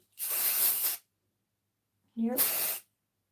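Two bursts of volume hair spray hit the hair from an aerosol can, each a loud, close hiss of just under a second, separated by a brief silence.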